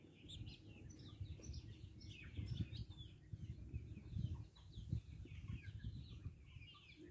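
Xin Xin Dian chickens, young roosters and hens, cluck and chirp in soft scattered calls over a steady low rumble of background noise, faint and fairly distant with no talk.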